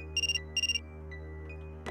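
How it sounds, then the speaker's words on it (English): Two quick bursts of a chirping phone ringtone over a low, steady ambient hum in an RPG Maker horror game, followed by a faint click. "Another phone call."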